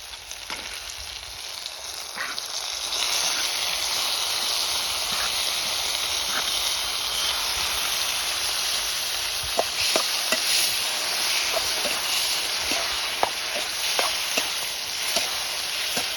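Yogurt hitting hot oil in a pan of frying capsicum masala, a steady loud sizzle with scattered clicks of a spoon stirring, close up and without talk.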